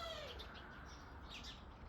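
Birds chirp outdoors in faint, high, brief calls over a steady background hiss, with no one speaking.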